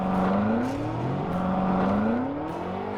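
A BMW M8 launches hard in a drag race, its engine roaring loud and close. The pitch climbs steadily, dips briefly at a gear change, then rises again.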